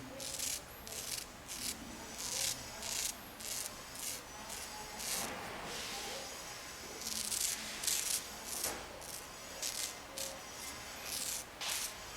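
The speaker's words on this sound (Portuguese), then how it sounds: "Inclina um pouco a cabeça do cliente e com a lâmina você vai raspando, olha só, sempre na direção do crescimento do pelo." A barber's razor blade scrapes across a client's beard in short repeated strokes, crisp rasping bursts separated by brief pauses, close and moderately quiet with no talking.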